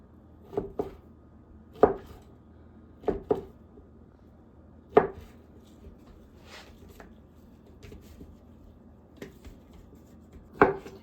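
A knife chopping ham into small cubes on a cutting board, sparse sharp thuds coming singly or in quick pairs at irregular intervals, close and fairly quiet with no talking.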